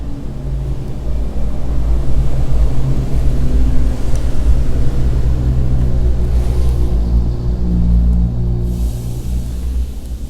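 A city bus passes along the street, its deep engine rumble holding steady and fairly loud the whole time, with no voices.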